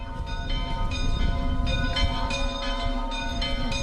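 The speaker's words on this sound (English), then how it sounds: "The bells ring out from the surrounding churches, all of them much bigger than the chapel" Large church bells ringing from churches surrounding the Altötting pilgrimage chapel in Bavaria, several overlapping rhythmic strikes with sustained ringing tones, moderately close and heard alone without talk.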